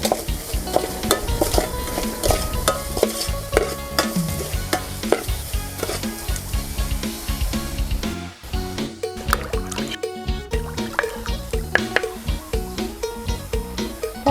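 Thai curry paste stir-fried in a pan for a fish aom curry, a loud, continuous sizzle with brisk, rhythmic scraping and clacking of a spatula against the pan, the noise never pausing except for a brief dip midway.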